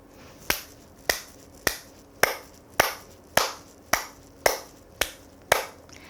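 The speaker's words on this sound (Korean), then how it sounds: "박수치기부터 시작하겠습니다." Ten sharp, firm hand claps at an even, steady pace during a warm-up exercise, each crisp and close, about one every half second, with no talking.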